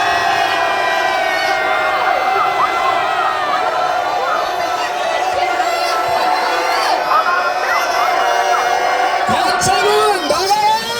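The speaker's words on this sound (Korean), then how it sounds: "맞서 싸울 자 3초간 함성을 질러주십시오." A large crowd at a political rally roars in a sustained, loud battle cry, with shouts and whoops layered over the continuous din.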